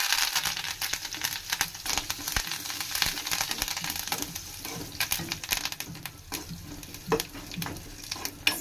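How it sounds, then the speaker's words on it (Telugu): Asafoetida and curry leaves crackle and sizzle in hot oil for sambar, a close, steady frying hiss with sharp pops and stirring clatter, no voices. "చూడండి ఇది కొంచెం ఫ్రై అయ్యాక ఇందులోనే నేను కరివేపాకు,"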